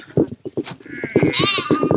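Several goat bleats, wavering and nasal, repeat close by in quick succession, with shorter calls overlapping in the background.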